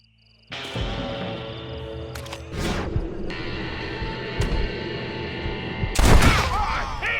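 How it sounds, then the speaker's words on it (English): Gunfire cracks in the game Red Dead Redemption, a few loud sharp shots including a heavy blast near the end, set against a busy layer of game music and ambience, with some speech mixed in. "Marvelous shot, dear boy."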